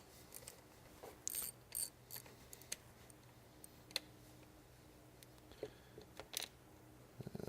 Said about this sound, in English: that's going to require a 10 millimeter metric socket